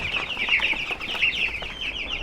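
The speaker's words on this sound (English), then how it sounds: "So these meat chickens can jump out now, so I've got them all blocked in." Meat chickens blocked in for the night keep up a dense, steady clucking and chattering close by, with no talking over it.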